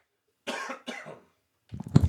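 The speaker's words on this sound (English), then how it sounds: "We're getting over sickness, so I got to pause it when I cough." Two close, raspy coughs in quick succession, then a pause before a lower throaty sound.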